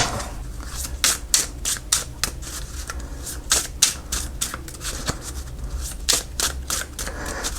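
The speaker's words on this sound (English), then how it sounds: "These shuffle really nicely because they are playing cards." Open Portal playing cards being shuffled up close, a rapid rhythmic run of crisp riffling flutters repeated in several bursts with no talking.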